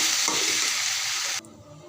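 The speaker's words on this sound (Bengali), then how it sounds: "তিনটা আইটেম দিয়ে ভাজি করতেছি।" Green tomato, bean and eggplant bhaji fries in a pan with a loud, steady hiss and sizzle, stirred now and then, then drops abruptly to a quieter crackle, with no talking.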